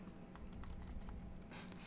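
Bracket keys pressed on a computer keyboard while working in Photoshop give several quiet, close clicks in an irregular rhythm over a faint background hum.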